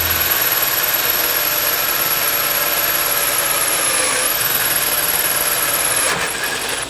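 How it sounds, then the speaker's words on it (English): A power drill bores a hole through a brass plug in a dual 38 Mikuni jet ski carburetor, a steady close, loud whine running continuously with slight pitch shifts before easing off at the end. "we're going to drill a hole in this brass fitting"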